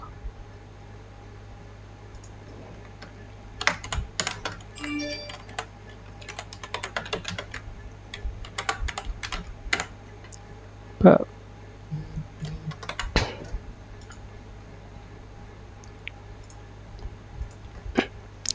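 Typing on a computer keyboard while building an agency website. Scattered bursts of key clicks come in irregular clusters over a steady low hum, with a few louder isolated taps near the middle.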